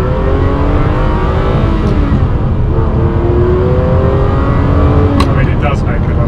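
Ferrari 456 engine revving, a loud sustained roar with slowly rising pitch sweeps, close and steady throughout, with a voice briefly mixed in.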